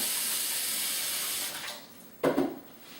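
Running tap water pours steadily while messy hands are washed, a close hiss that tapers off, followed by a brief louder splash and gush near the end, with no talking.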